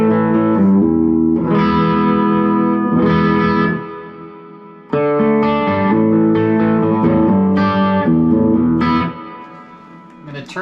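An electric guitar plays through a Fender Bassbreaker 15 combo amp with the master around 11 and the gain cranked to 3 o'clock. It gives a loud, distorted, sustained tone in chord phrases with brief gaps between them.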